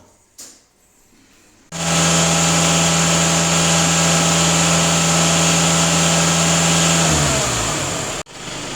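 A Volkswagen Passat B8 diesel engine holds a steady, loud drone at around 2000 rpm during DPF and EGR cleaning, then drops in pitch and cuts off abruptly, followed by a brief click.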